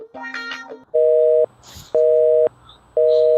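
Telephone busy signal after dialing a blocked number: three loud, steady beeps of about half a second each, evenly spaced one second apart, following a brief ringing tone at the start.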